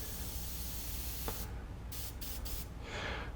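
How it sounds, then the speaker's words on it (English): Airbrush compressor building pressure, a continuous broadband hiss that runs steadily throughout, with brief airy bursts partway through and a stronger rush near the end; no voices. "you can hear the pressure"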